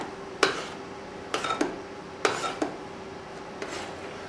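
Salt being stirred into melted butter in a pan, heard as a few sharp scraping clinks of a utensil against the pan in uneven bursts over a quiet background, with no voices.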